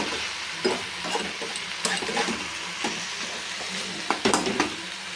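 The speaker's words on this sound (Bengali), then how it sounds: "বেশ ভালো করেই কষানোটা হচ্ছে সুন্দর তেল ছেড়ে এসেছে" Banana flower mixture sautés in oil in a pan, a steady close sizzle with scraping stirs and occasional sharper clacks from the utensil.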